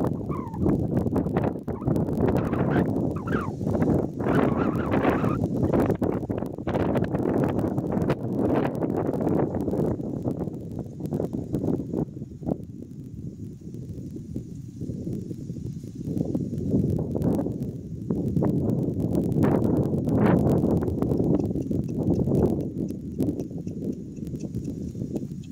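A mare backing up during groundwork training, her hooves clopping in an uneven series of soft steps on the ground, under steady wind noise and with faint birds in the background.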